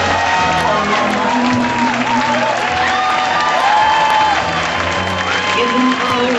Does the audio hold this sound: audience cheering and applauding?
yes